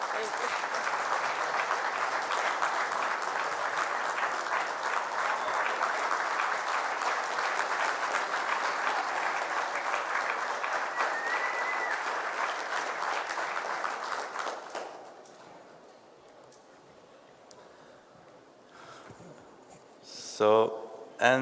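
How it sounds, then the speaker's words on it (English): An audience at an award event applauds loudly and steadily for about fifteen seconds, then the clapping fades away and a few voices and microphone noises follow in the quieter room. "applaud her, sorry."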